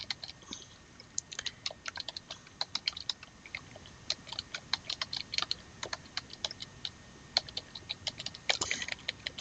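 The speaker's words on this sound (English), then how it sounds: "Sorry, I'm not typing very well," Irregular bursts of clicking keys as someone types on a computer keyboard, close by, with brief pauses between runs of keystrokes.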